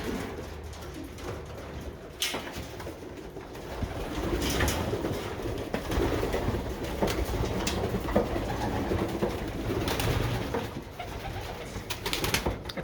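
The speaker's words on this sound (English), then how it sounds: "so I might grab some grain and feed the pigeons" Racing pigeons in their loft on a rainy day, soft repeated cooing and rustling wing and feet noises close by, with a low background rumble throughout.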